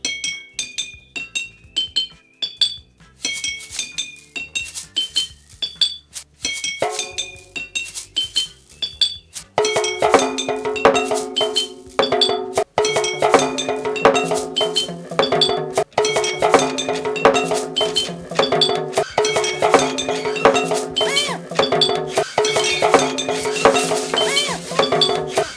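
Homemade percussion instruments made from found materials are played together in a classroom, starting with sparse clinking glassy and metallic taps and building into a dense, loud, busy ensemble of ringing hits.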